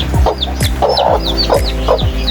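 Chickens cluck repeatedly in short, busy bursts at close range in Karachi after rain, with steady low farmyard hum underneath and no talking.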